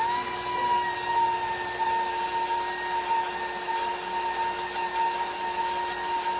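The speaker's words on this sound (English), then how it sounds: "I'm going to let it whisk one more minute" A stand mixer whisks a flourless cheesecake batter, a steady, continuous motor whine with a bright pitched hum running unbroken and loud throughout, with no talking.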